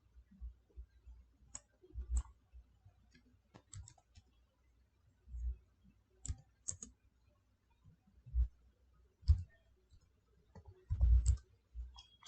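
Scattered quiet clicks from a computer mouse and keys, irregular and close, some soft thuds between them, no voices.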